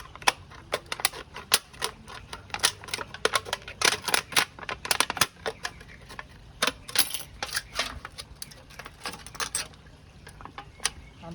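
Scissors cutting through recycled aluminum cans, a dense run of sharp metallic snips and crinkles in uneven bursts, close up, with no talking.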